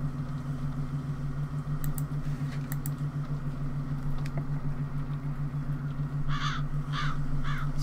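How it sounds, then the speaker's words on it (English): Crows caw in a horror video game, sounding in short bursts of harsh calls in the second half over a steady low ambient hum. "Shut up, birds."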